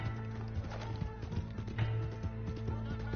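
Horse hooves clip-clopping in the Red Dead video game, a steady rhythmic run of close, clear hoof beats with a brief whinny, and no talking over it.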